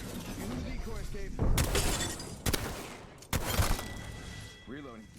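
Gunfire in the Apex Legends battle royale game, with three sharp broadband bursts of shots landing over a steady game soundscape and background voice, the loudest volleys near the middle and late in the clip.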